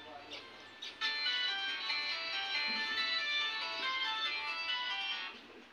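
A phone ringtone plays a bright, steady melodic tune for several seconds at moderate volume, then cuts off, with faint talk around it.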